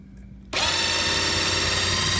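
A Trim It II case trimmer starts up after a quiet moment, then holds a loud, steady, high-pitched grinding whine as it trims and deburrs a cartridge case mouth.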